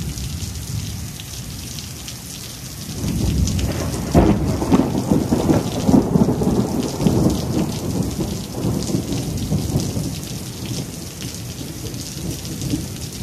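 Rolling thunder in a heavy rainstorm: steady rain hisses throughout, then a deep rumble swells in, cracks loudly and keeps grumbling on under the downpour, with no voices.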